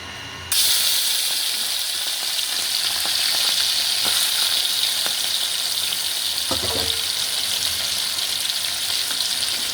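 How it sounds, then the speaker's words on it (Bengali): Prawns frying in a wok of hot oil, a loud continuous sizzle with spattering pops and a few scraping stirs, close up and steady throughout after a sudden start. "এবার আমি চিংড়ি মাছগুলোকে ভেজে নেব।"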